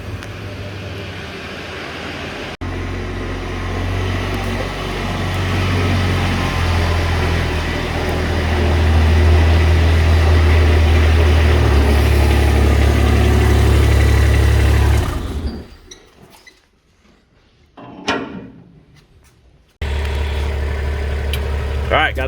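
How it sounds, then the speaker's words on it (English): A Kubota tractor engine runs steadily and loud while pulling a truck out of a shop, its low hum rising and holding for about fifteen seconds before cutting out, then faint knocks and a brief return of the engine. "We're gonna get this pulled out with the Kubota"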